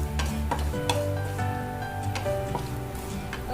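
Dry fruits and poppy seeds roast in a pan for modak filling, giving a soft steady sizzle with light scraping and ticking stir sounds, close and alone without speech.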